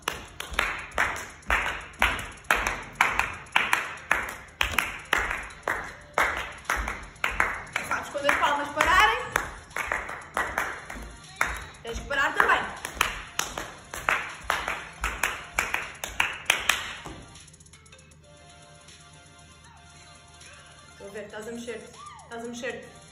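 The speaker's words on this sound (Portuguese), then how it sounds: "eu vou batendo palmas" Steady rhythmic hand clapping leads movement in a children's gymnastics class, close and regular for about seventeen seconds before stopping, with a voice speaking briefly after.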